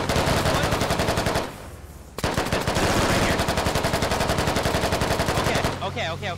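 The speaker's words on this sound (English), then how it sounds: "Engage the building he's in. Just fucking shoot the building." Sustained rapid machine-gun fire from a squad-based military shooter game hammers a building in long bursts, with a short lull midway before the volleys resume and voices talk faintly underneath.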